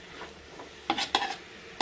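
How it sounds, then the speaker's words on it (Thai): Indian trumpet tree pods are stir-fried with seasoned pork belly in a pan: a faint sizzle broken by a few sharp clacks and scrapes of a utensil against the pan. "เอาเพกาลงผัดกับหมูเลยค่ะที่ปรุงรสเรียบร้อยแล้ว"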